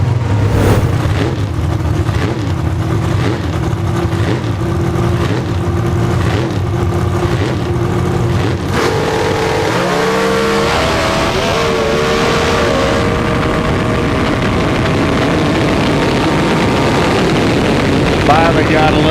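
B dragster with a 400 cubic inch small-block engine, driven by a 20-year-old from Texas, roars loudly and steadily down a drag strip, its pitch rising as it accelerates, with an announcer talking over the run.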